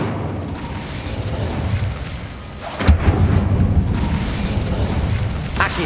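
Casting the Incendio fire spell in Hogwarts Legacy makes a sudden whooshing burst at about the three-second mark, followed by a rumbling flare-up and a smaller pop near the end, loud and close.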